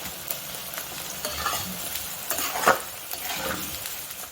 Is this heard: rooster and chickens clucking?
no